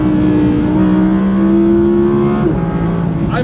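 Audi R8 RWS V10 engine screams at high RPM while driving at speed in third gear, a loud, sustained close wail that climbs steadily and then drops abruptly near the end.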